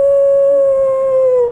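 A dog lets out one long, loud, steady howl close by, holding a single sustained tone before trailing off, with no voices over it.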